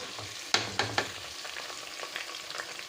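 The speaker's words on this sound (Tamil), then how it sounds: "இப்போ பட்டை லவங்கம் ஏலக்காய் கிராம்பு இதெல்லாம் போட்டுடலாம் பச்சை மிளகா வெங்காயம் போட்டுக்கலாம்" Whole spices, green chili and onion fry in hot oil and ghee for a chicken biryani, a steady close sizzle broken early by three sharp clicks as pieces drop into the pan.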